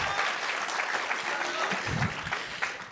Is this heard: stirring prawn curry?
no